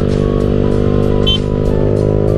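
A motorcycle is ridden out on the road, its engine giving a loud, steady low drone with even pulsing throughout and wind noise on top.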